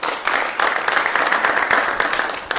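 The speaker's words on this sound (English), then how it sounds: "so I'll have a round of applause for them" Audience at a school district capital plan presentation gives a round of applause, steady broadband clapping for about two and a half seconds with a brief dip near the start and end.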